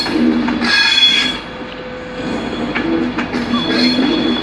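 An LNER train from Edinburgh Waverley pulls into London King's Cross station, wheels screeching loudly and close over a heavy rolling rumble and rattle of carriages.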